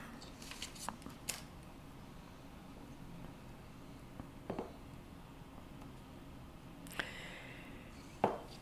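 Scissors snip out a shape for a resin shadow box pendant in a quiet room, a few crisp isolated cuts spaced seconds apart, the last one slightly louder.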